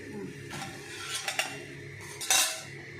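An aloo paratha is moved from the pan onto a plate with light clinks and scrapes of a utensil against cookware, then a brighter metallic clatter, over a faint background hiss.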